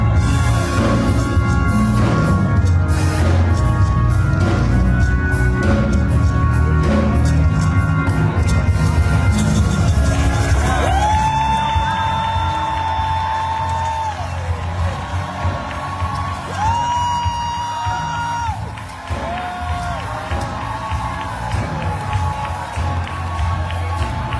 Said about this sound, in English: Here they are cheering President Biden as he joined them during worship in the morning.